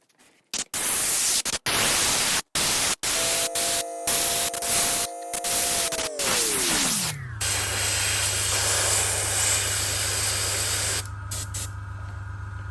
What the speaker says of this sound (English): all I did was add a little quartz skin into the airbrush to make it a bit lighter